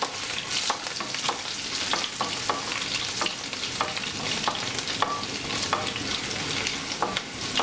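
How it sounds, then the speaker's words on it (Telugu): Fenugreek seeds and garlic frying in a pan for an Andhra-style bottle gourd pulusu, a steady close sizzle with regular scraping stirs from a spoon at roughly half-second intervals. "మెంతులు, వెల్లుల్లిపాయలు కొద్దిగా ఫ్రై చేసుకుందాం."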